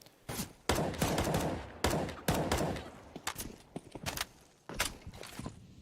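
Gunfire in Counter-Strike on the Inferno map during a pro match: repeated sharp shots and rapid bursts, some clustered and some spaced apart, loud and close with quieter stretches between.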